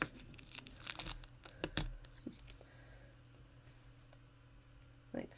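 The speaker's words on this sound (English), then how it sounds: "what I'm actually going to do, very lightly, is adhere some tape to this" Adhesive tape pulled and pressed lightly onto card for a paper craft spinner card, giving faint close tearing and crinkling snaps and a few soft clicks in a quiet room.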